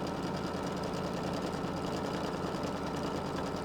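Embroidery machine stitching a quilt block, a steady close mechanical hum with rapid even needle rhythm running without pause.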